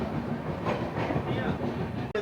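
A passenger train running between Bolpur and Sainthia rumbles steadily along the rails with a dense, continuous roar and faint rhythmic clatter, heard from close by inside.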